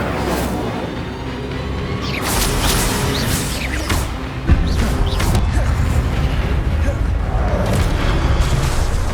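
Booming, whooshing blasts of the Incendio fire spell in Hogwarts Legacy, with a sharp burst midway and a dense roar sustained over a loud, noisy battle background.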